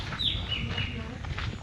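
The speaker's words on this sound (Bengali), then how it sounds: "পাখি ডাকছে" Birds calling around a hilltop ashram on Koro Pahar in Bankura during the monsoon, a few quick high chirps early on over a low outdoor rumble and faint murmuring.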